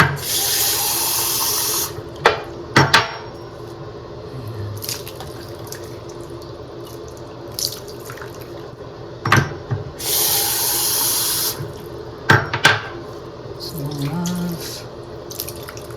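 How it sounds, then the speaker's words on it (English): A bathroom faucet gushes in two short bursts, with clunks and drips in between as water splashes into a sink nearby. "And turn on the water again."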